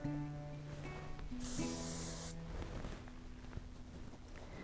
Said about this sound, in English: simply lift your hair and hairspray underneath like this